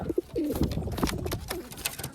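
Two pigeons sit in a coop and give short, low cooing calls close by, repeated in quick bursts over faint background noise, with no talk.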